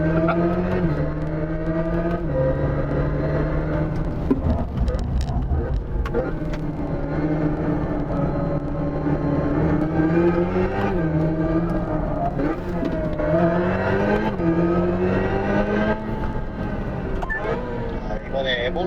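Hyundai Ioniq 5 N electric car playing its synthetic Evolution-mode engine sound, a loud, steady stream of revving tones that climb and dip repeatedly, with gear-change-like steps throughout.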